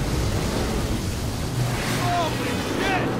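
Wind rushes steadily and loudly through the Gears of War 4 game, a constant windy roar with faint whistling tones in the last second and a half.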